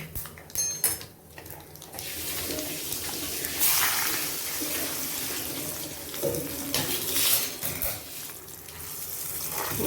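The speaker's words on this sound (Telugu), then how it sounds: "ఈ పోపు వేగిపోయింది కదా, రోట్లో పోసేద్దాం." Fried tempering of curry leaves, urad dal, chana dal and asafoetida poured from a pan into a stone mortar for gongura pickle, giving a close, continuous sizzle and splash-like hiss with scraping clatters, no talk.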